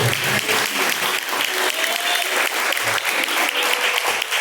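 A church congregation clapping in praise during a live worship service, a dense continuous roar of hands with some rhythmic emphasis, loud and unbroken with faint voices mixed in.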